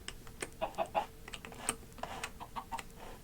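Chickens clucking in Minecraft, short faint clucks mixed with a run of quick keyboard typing clicks.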